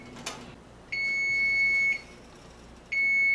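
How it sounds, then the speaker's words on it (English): A kitchen timer beeps in two long, high electronic tones separated by a pause, close by and clear over a quiet background. "as you can hear, my timer has just gone off"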